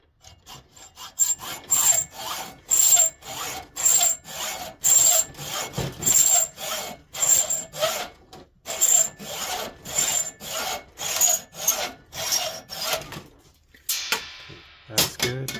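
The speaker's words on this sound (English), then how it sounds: "my bolt's about a ½ inch too long or something, so we're gonna go ahead and got a good little chunk of it off" A metal bolt being cut down at its end with a hand saw, a fast even run of rasping strokes, close and loud, with a short pause near the end before a few final strokes.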